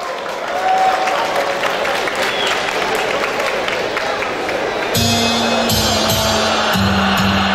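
Studio audience at a regional televised singing competition final breaks into steady, loud applause, with a sustained music chord entering under the clapping partway through.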